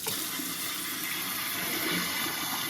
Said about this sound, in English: We're gonna just run this under water, and that should get rid of most